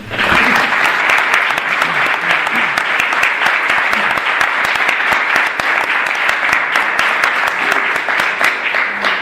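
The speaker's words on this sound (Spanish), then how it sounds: "primero solicitarle a todos ustedes un fuerte aplauso, porque se lo merece por el gran trabajo que ha hecho" Loud, close applause from a conference audience at a talk on Motril and its Nazarene devotion, with crisp individual claps in a sustained, even burst lasting the whole stretch.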